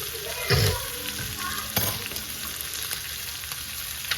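Short ribs caramelizing in a hot pan give a steady close sizzle, with a couple of louder clatters from the pan or utensil and no talking.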